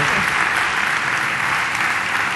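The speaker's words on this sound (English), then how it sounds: "Give them a round of applause." At a summit policy session, the crowd gives a panel a round of applause: loud, even, sustained clapping from many people, steady throughout with no pause.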